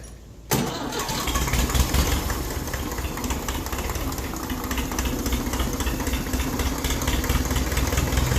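A 1954 Ferguson 20 TEF diesel tractor engine cranks and catches after about half a second, then runs on at a steady, loud, close idle with a rough knocking beat for the rest of the clip, with no talk.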